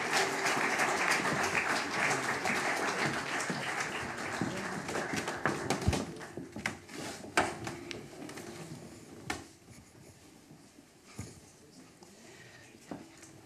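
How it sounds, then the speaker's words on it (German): An audience at a German panel event on open educational resources applauds the panel guests; clapping starts fairly dense, then thins to scattered claps and fades as the room quiets. "Erstmal einen herzlichen Applaus schon für die Podiumsgäste."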